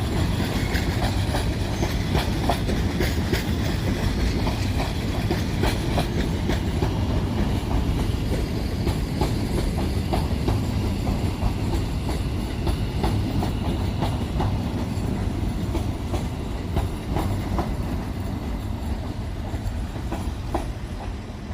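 A Class 730 electric train from London Euston rolls into Crewe station on the West Coast Main Line, a loud steady rumble of wheels on track with repeated clickety-clack over rail joints, fading slightly near the end.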